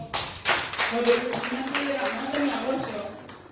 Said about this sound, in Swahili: Sisi wote basi ni wageni, tujipigie makofi.